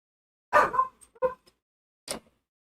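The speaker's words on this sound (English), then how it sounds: "Dog." A dog barks close by, a short cluster of yips and barks followed by a single later bark, against near silence.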